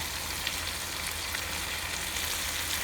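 Spinach sizzling and frying in an uncovered pan while cooking chicken keema, a steady, fairly quiet crackling hiss that carries on evenly throughout with no talking.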